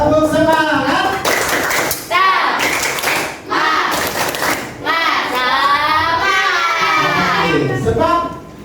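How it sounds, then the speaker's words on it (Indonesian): A sixth-grade class does a rhythmic spirit clap, claps in patterned groups mixed with chanted children's voices, loud and close, with talk running through it. "kita tepuk semangat terlebih dahulu agar kita selalu bersemangat. Tepuk semangat."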